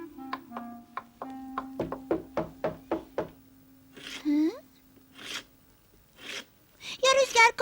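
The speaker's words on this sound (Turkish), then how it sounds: "Kapının çalındığını duydum büyük baba" A door is knocked on in a run of eight or so evenly spaced, close knocks, followed by rustling, a gasp-like breath and brief voice-like sounds.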